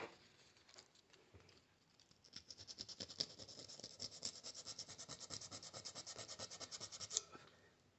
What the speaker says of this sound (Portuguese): Vou passar a lixa aqui também nessa parte aqui